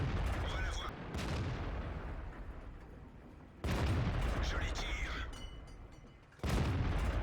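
Tank cannon shots in World of Tanks, with heavy booming blasts at the start and again around the middle and the end, each followed by a decaying rumble.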